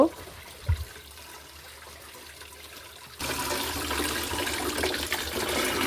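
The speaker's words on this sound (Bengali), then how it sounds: "শাকগুলোকে আমি খুব ভালো করে ধুয়ে নিচ্ছি" Leafy greens being washed, starting with a few splashes, then a quiet stretch, then running water that switches on and pours steadily nearby.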